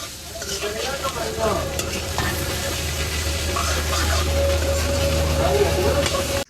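Mashed boiled potato is stirred with fried dry chilli and onion in a pan, giving a steady scraping and stirring sound over a soft sizzle that lasts several seconds.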